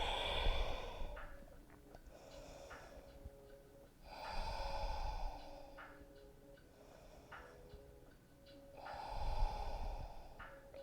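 Deep, slow breathing during a yoga hamstring stretch and lower back release: long airy exhales and inhales repeating in a steady rhythm, close to the microphone and fairly soft, with no speech.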